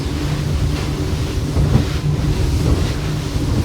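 A Yellowfin 36 boat runs fast through choppy inlet water, with a constant loud low roar of engine, hull slap and wind buffeting the microphone.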